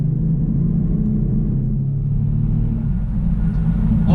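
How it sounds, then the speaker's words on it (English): 2018 Kia Stinger all-wheel drive turbo accelerating on the interstate, a steady, loud low engine rumble with road noise that holds constant from inside the cabin. "we're going to go on the interstate right now just to get a little bit of an acceleration run"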